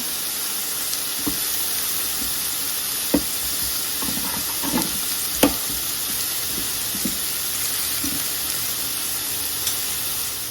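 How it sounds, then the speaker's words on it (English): Zucchini sizzles steadily on a grill beside ramen and steak in a hot pot setup, a constant close hiss with occasional soft pops and clicks, no voices. "Just grill it up nicely."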